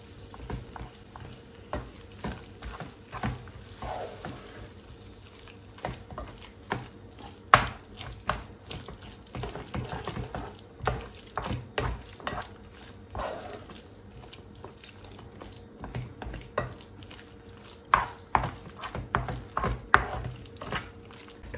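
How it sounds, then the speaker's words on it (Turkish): Grated kashar cheese is stirred in a pan until it melts, with repeated scraping and clicking spoon strokes over a soft, steady sizzle, fairly quiet and with no voices. "Kaşar peynirimi de şöyle eriyinceye kadar karıştırma işlemine devam ediyorum"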